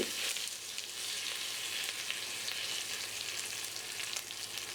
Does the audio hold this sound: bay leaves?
yes